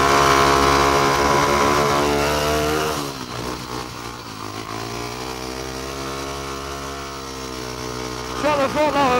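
Speedway motorcycles race hard out of a corner, a loud, dense engine roar with strong harmonic tones that drops back somewhat after a few seconds, then surges again at the end.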